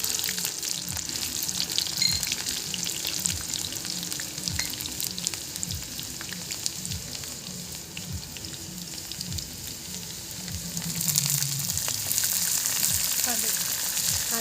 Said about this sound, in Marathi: आता तेलामध्ये कांदा टाकलेला आहे